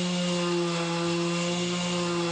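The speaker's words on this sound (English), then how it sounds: "Sand the bottom and sides of the bowl to remove any machining marks" Continuous buzzing whine of a power sander working a wooden bowl, steady and fairly close, with no talking.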